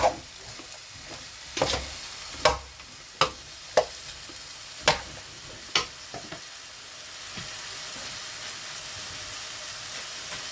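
A spoon scrapes and knocks around a pot of pork sinigang as rice-washing water goes in: a run of sharp, irregular clanks over a steady soft sizzle and hiss, fading to a quieter simmer.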